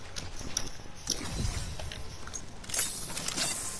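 Horse hooves clip-clop in a steady walking rhythm in a video game, over a noisy, busy background, fairly close and moderately loud.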